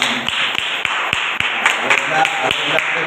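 An audience at a live mimicry show claps in quick rhythmic beats, crisp hand claps ringing out beneath someone speaking.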